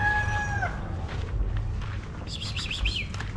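A backyard rooster calls twice, first a short, clear call and then a wavering call a moment later, heard at moderate distance over faint outdoor ambience.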